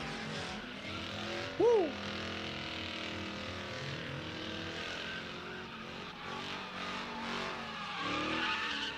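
A drift car slides around the Big Indian Drift Pit with its throttle feathered, giving a continuous roar of engine and tire noise. A brief shout cuts in early.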